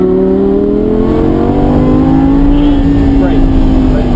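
A Lamborghini accelerates, its engine a loud, steady, rising drone heard from inside the car.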